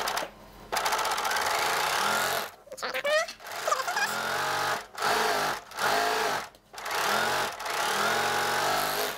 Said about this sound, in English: I'm going to go ahead and serge the edge of my sleeve now.